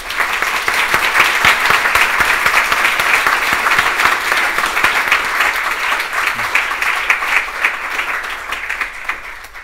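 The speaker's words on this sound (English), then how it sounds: "let's give our panelists a round of applause" A round of applause for the panelists at a live criminal justice reform event with Chuck Grassley, a sustained full-room clap that holds strong for most of the stretch before thinning slightly toward the end.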